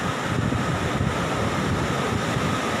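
Sea waves roll in along Tanjung Pakis beach during a tidal flood, a constant broad roar of surf and water mixed with buffeting wind on the microphone, with no voices.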